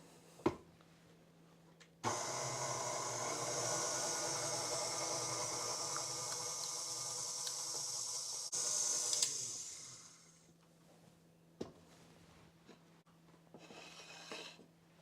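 An electric stand mixer beats sour cream pound cake batter, a steady close whirring hiss that runs for several seconds after a sharp click, then winds down to quieter scraping and light knocks.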